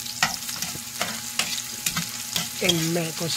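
Garlic and red onion sauté in a pan with spatula stirs and scrapes over a steady, moderate sizzle, with a brief clink near the end.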